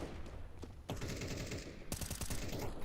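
P250 pistol shots in a Counter-Strike match, with quick bursts of sharp cracks fired in rapid succession over a dense, steady game backdrop, loud and up close.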